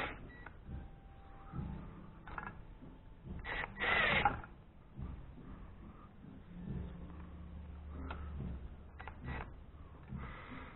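A socket wrench ratchets while tightening a stabilizer-bar link on a Volvo 850 suspension, with quiet clicking mechanical work and a louder burst of rapid ratcheting near the middle.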